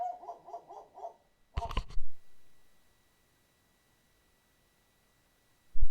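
A dog gives a few short whimpering yelps, followed by a sharp bark or clatter, then near silence before another abrupt knock at the end.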